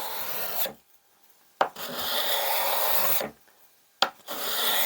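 Rasping strokes of a cabinet scraper sharpened with a Rockler tool, shaving powdery wood dust: three long scrapes separated by brief silent pauses, close and distinct, with no voices.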